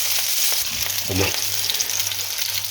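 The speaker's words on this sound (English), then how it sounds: "you can still hear that sizzling away" Steady, close sizzling of mushrooms frying in a pan, with a brief low knock partway through.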